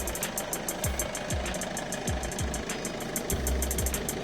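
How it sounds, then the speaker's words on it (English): A 2008-2014 Ford Fiesta engine idling steadily, a constant low rumble with a faint regular ticking and knock, close by, no voices. "Engine running,"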